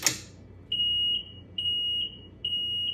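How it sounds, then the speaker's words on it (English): A Ryobi RM300e electric riding mower converted to a LiTime 30Ah 48V LiFePO4 battery gives three clear, evenly spaced electronic beeps, each about half a second long, close by after a brief click. "When I turn this on, I should get a beep or something"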